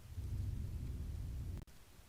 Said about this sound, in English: Now if only I could inspire the rain to go away.